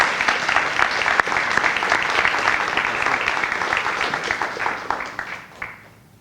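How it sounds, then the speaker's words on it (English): Audience at a county scholarship awards ceremony applauding steadily for about six seconds, a dense roomful of claps that fades out near the end. "let's give Mr. Morris a round of applause"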